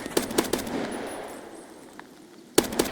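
Sharp, loud gunshots in Escape from Tarkov: three quick single shots, a lull with faint background noise, then two more shots close by.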